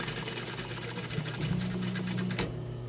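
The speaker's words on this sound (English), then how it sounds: "I'm going to sew a 1/2 inch line straight across with back tacking here" A sewing machine runs a straight stitch across a fabric drawstring bag, a close, steady whirring hum with rapid needle ticking that stops abruptly near the end.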